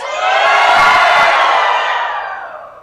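A church congregation lets out one loud, sustained collective shout that swells quickly, holds for about two seconds and then fades, with no other speech over it.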